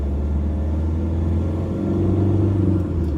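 A Kia Venga diesel driving home along the road, its steady low engine rumble and road noise loud and continuous, swelling slightly midway as it pulls along, with no voices.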